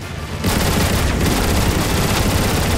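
Heavy, continuous turret gunfire from a gun emplacement in Transformers War for Cybertron, a loud, dense barrage of rapid shots starting after a brief lead-in and running without pause.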